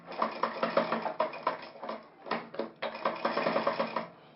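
Sewing machine stitching a shirt collar, a rapid rhythmic whirring and clatter in short bursts with brief stops between runs, close and clear with no talking.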